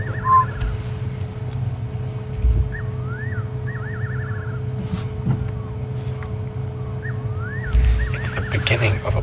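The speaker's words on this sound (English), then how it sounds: "beginning of a barred owlet call." Barred owlet calling at night during a safari drive: rising whistled, trilling phrases repeat at a distance over a steady low rumble of a vehicle.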